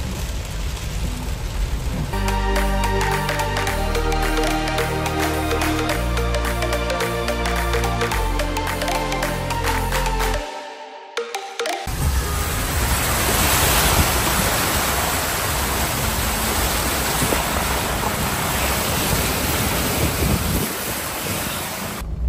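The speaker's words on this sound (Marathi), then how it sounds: "एकदम डायरेक्ट धुवाधार पाऊस लागलेला आहे." After a stretch of music and a brief pause, a heavy downpour takes over, a dense, loud, unbroken roar of rain with wind noise that lasts to the end.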